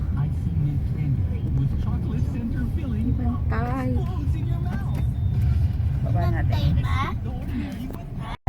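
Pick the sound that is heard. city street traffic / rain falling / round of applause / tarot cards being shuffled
city street traffic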